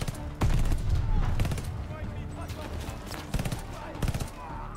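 Bursts of MP40 submachine gunfire in Call of Duty Vanguard ring out in several separate volleys, loud at first and then sharper short bursts, with someone talking in between.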